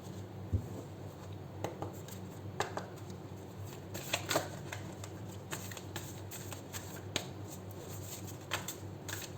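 Tarot cards are shuffled close by, with soft repeated riffling and flicking clicks in an uneven rhythm across a quiet room, and no talk.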